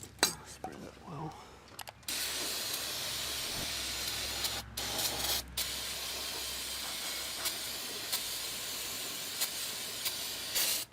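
Spray hisses over a TriPac APU during a DIY service, several steady bursts with brief breaks in between, close up and moderately loud.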